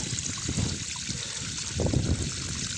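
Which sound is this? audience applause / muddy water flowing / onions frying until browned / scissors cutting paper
muddy water flowing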